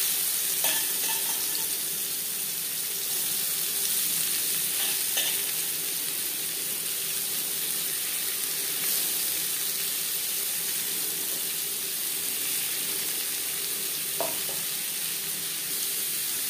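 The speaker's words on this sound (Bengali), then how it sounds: "ডিম ভেজে নেওয়া তেলে দিয়ে দেবো পেঁয়াজ কুচি।" Chopped onions fry in oil left over from frying eggs, making a loud, even sizzle that holds throughout with occasional faint clinks and no voices.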